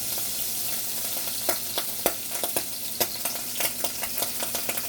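Unsalted butter melting in a pan gives a steady sizzle with scattered pops and crackles, continuous and fairly close, with no talking.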